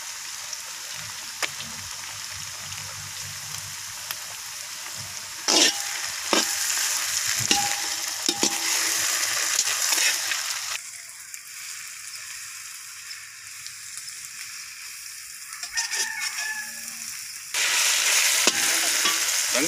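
Ground ginger and garlic paste sizzling in a hot pan, a continuous fry with bursts of louder crackle as a spoon scrapes and stirs it at intervals.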